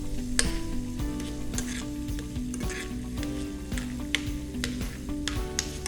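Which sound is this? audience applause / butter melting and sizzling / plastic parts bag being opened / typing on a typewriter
butter melting and sizzling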